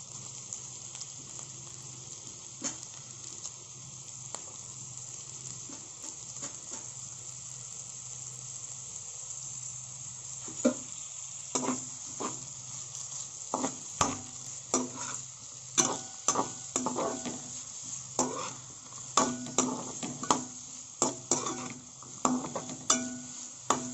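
Finely chopped onions frying over a low flame in a pan for paneer gravy. At first there is a quiet hiss over a steady hum, then the second half fills with repeated close spatula scrapes and stirring knocks.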